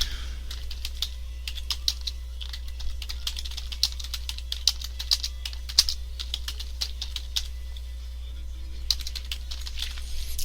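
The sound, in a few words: typing a macro description on a computer keyboard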